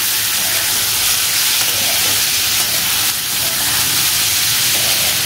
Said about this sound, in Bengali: এবার এই চিকেন দিয়ে এটাকে একসঙ্গে ফ্রাই করবো।